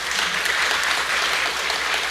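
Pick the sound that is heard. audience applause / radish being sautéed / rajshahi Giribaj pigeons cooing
audience applause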